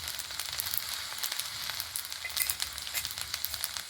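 Egg pasta with tomato sauce sizzles softly in a pan while being stirred, a faint close crackle with quick scraping strokes and no voice.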